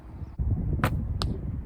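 Arrows shot at an archery target during practice, with two sharp, brief impact cracks standing out against a steady low outdoor rumble.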